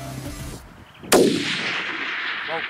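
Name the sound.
rifle shot at a deer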